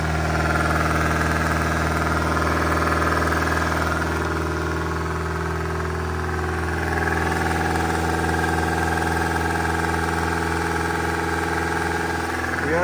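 A 1980s Yugo hatchback engine idles steadily just after its first start following repairs, a loud, even mechanical drone with a slightly knocking, uneven beat running throughout, close by and alone.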